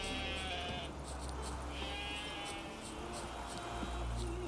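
Sheep bleat in The Witcher 3: Wild Hunt video game, with repeated bleats over a dense bed of game ambience, fairly close and clear.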